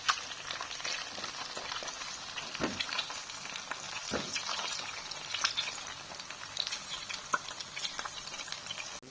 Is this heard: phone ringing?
no